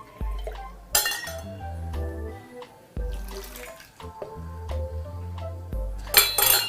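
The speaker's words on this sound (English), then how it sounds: "So this is preheating to make a glass a little bit warmer." Hot water poured into a glass to warm it before brewing V60 pour-over coffee, a close trickling pour broken by a few sharp glass clinks, quiet with no talk.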